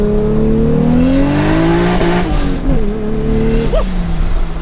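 A new Toyota Supra engine revs with traction control off, holding a loud, steady drone that climbs in pitch, dips and rises again, with a brief sharp squeal near the end.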